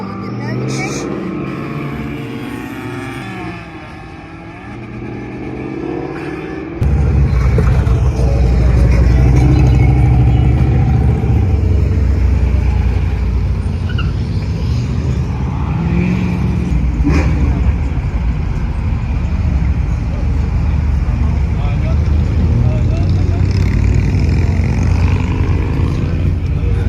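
A six-cylinder car engine runs steadily and loudly, rising abruptly after a quieter opening stretch and then holding a strong, constant drone to the end.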